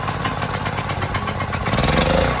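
A Predator 4000-watt generator with a freshly repaired carburetor cranks and catches, its small engine sputtering up into a steady, loud, close running rattle with no talking.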